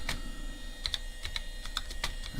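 Keys clack in quick irregular bursts on an IBM 486 computer keyboard, a worn unit with sticky keys, close and fairly quiet with no voices.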